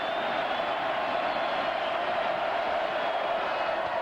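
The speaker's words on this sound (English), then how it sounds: "So now the Memorial Stadium home crowd responds" Memorial Stadium home crowd at a 1995 Fresno State vs. Cal college football game: a broad, sustained roar of cheering, steady and distant-sounding, with no breaks.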